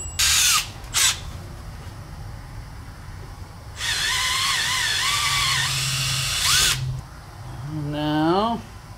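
Bursts of a high-pitched power drill whirring a 5/32 bit during a motorcycle shock rebuild, two short ones then a longer sustained run, with a voice speaking briefly at the end.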